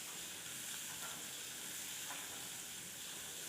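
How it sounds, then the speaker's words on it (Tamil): Long-sliced big onions sauté in hot oil with mustard seeds, making a steady, even hiss. The sizzle is faint and continuous, with no talk over it. "வெங்காயம் பெரிய வெங்காயமாக நீள நீளமாக அறுத்து எண்ணெயில் போட்டு வதக்கிக்கலாம்"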